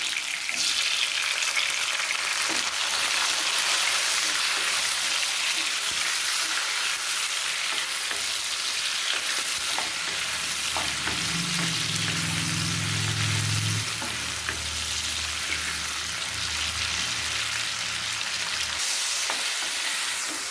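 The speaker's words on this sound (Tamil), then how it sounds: "பூண்டு, வெங்காயம், தக்காளி எல்லாம் நல்லா வதங்கிடுச்சு." Garlic, onion and tomato sauté in a pan for a vegetarian fish curry, a dense, continuous loud sizzle with a low rumble partway through.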